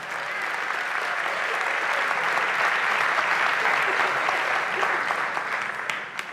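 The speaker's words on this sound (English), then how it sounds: "let's give a nice round of applause to this church" Crowd in a church hall at a high school senior awards ceremony applauding loudly and continuously, a dense, even roar of clapping that holds for several seconds before tapering slightly.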